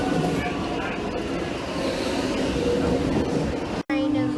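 A Lilydale-bound suburban train pulls away from a Melbourne platform with a continuous close rumble and rolling drone, then a brief dropout followed by a steady tonal hum.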